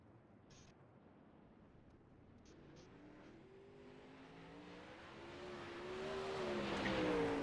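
Sprint car engines rising during warm-up laps at Lucas Oil Speedway in a racing sim, a faint distant drone growing steadily louder with climbing engine pitch.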